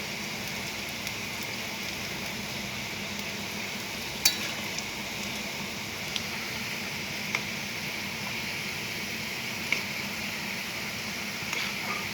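Food fries in a pan with a steady, even sizzle while a spatula stirs it, giving occasional faint clicks and scrapes, close and continuous with no talking.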